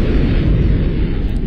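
An incendiary missile from the Minecraft ICBM mod in version 1.4.6 launching and exploding, heard as a loud, sustained low rumbling roar that fills the whole moment without letting up.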